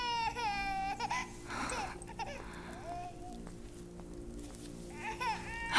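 A baby cries in a wailing, bleating voice in several bursts with pauses between, fairly close and moderately loud over a steady background hum.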